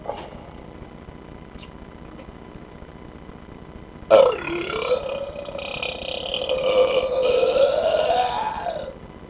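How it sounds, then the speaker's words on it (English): A long, loud, close-up human belch that starts abruptly and rumbles on for about five seconds before stopping, following a quiet stretch. "That's a burp."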